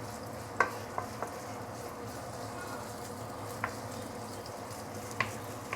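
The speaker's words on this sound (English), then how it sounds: "So you do need to keep on stirring using a medium heat." Ginger sizzles in oil over medium heat, a soft continuous frying hiss broken by occasional sharp scrapes and taps of a utensil stirring the pan.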